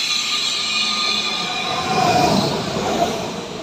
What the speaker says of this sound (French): Wow, on dirait la vieille locomotive.